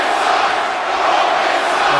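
An arena crowd in Fort Worth, Texas, roars and shouts in WWE 2K18, a loud, dense wall of voices held steady for a couple of seconds.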